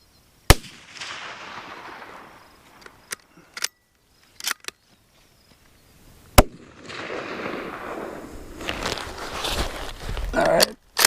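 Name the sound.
CZ 527 carbine rifle shot at the range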